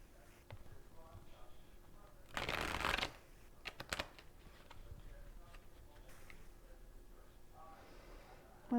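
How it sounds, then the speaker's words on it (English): A quick riffle of cards around the middle, a dense burst of crisp flutter, with soft tapping and handling noises before and after. "All right, one more shuffle."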